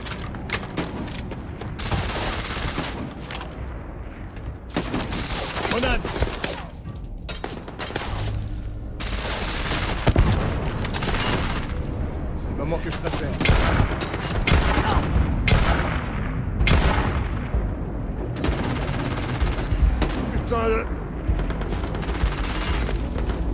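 Gunfire in the sci-fi video game Starfield: dense bursts of shots and booms crackle through a loud, busy combat mix, with repeated volleys spread across the whole stretch.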